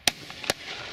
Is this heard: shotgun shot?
yes